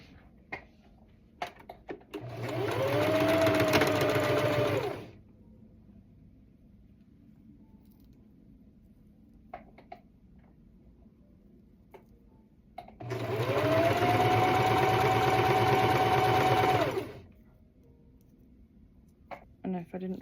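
Sewing machine stitching the long straight edge of a swimsuit cover-up sleeve in two sustained runs of several seconds each, a close motor whir with quiet handling sounds in between.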